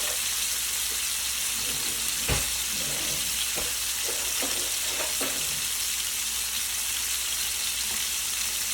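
Pork chops sizzle and brown in garlic butter in a pan, a steady hiss with occasional crackles and light clinks, and no talking over it.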